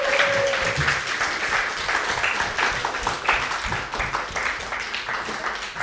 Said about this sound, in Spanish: Un aplauso final para todos.